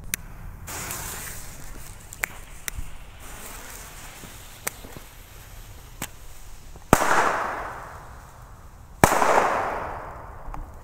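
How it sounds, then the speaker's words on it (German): Sharp WECO Booster firecracker bangs crack out at intervals, two especially loud blasts followed by hissing, crackling echoes that fade over a second or two. "Der zweite war auf jeden Fall lauter als der D-Böller."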